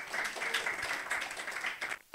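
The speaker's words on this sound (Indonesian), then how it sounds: "Tepuk tangan untuk Pak Marco" Brief burst of audience applause for a guest at an evening civic event in Semarang, moderately loud clapping that cuts off abruptly near the end.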